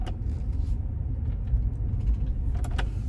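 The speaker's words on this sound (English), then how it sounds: "there was a car like whipping around in front of me" A car on a dark road at night, heard as a steady low engine and tyre rumble that holds at a fairly even level for about three seconds, with no voices.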